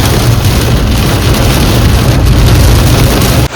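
Heavy monsoon rain pours steadily onto a mountain road in South Sikkim, a loud, dense, continuous roar of rainfall without pause, close and enveloping.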